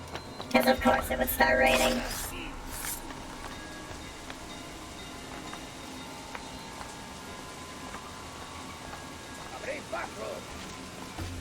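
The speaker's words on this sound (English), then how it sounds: "Because of course it would start raining." Steady rain patters throughout at a low level, with a brief burst of louder clatter near the start and faint scattered sounds later.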